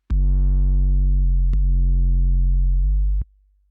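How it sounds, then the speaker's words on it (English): Basic synth bass from an RC-505MK2 looper with no white noise added, a loud, steady low tone sustained in three held notes, the pitch stepping between them with sharp clicks at each change, then cutting off abruptly. "it's a really basic bass that you can hear"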